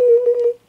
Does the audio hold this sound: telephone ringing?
yes